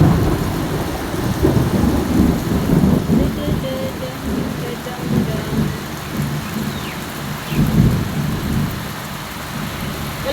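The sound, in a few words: heavy rain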